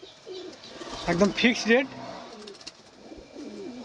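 Large Madrasi pigeons coo softly in the background while someone talks over them about the birds for sale.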